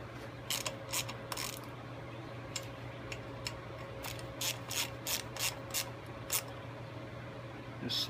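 Screws are tightened on the ignition cover of a Snapper 5 HP Briggs and Stratton small engine, with quiet ratcheting clicks in short bursts over a steady low hum.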